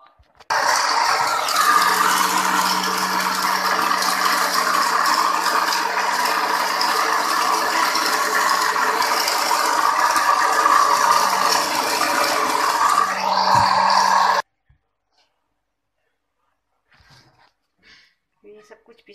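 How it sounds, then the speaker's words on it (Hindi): An electric grinder whirs loudly and steadily for about fourteen seconds while grinding ingredients for a healthy iftar drink, then cuts off abruptly, leaving near silence. "हम ग्राइंड कर लेंगे."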